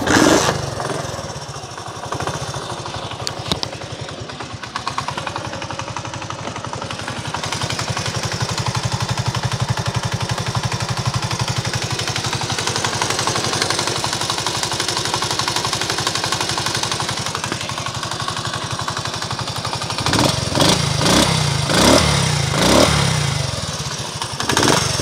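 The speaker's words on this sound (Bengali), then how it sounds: "এবার আপনাদেরকে গাড়ির ইঞ্জিনের সাউন্ডটা শোনানোর চেষ্টা করব এবং প্রতি কিকে কিন্তু স্টার্ট হয়।" A Honda CD80 motorcycle engine, kick-started, settles into a steady close idle for most of the time, then revs in a few sharp bursts near the end.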